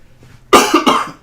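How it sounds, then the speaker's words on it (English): Two harsh coughs in quick succession, close and loud, after a brief quiet moment. "Really sorry, everyone, about my coughing."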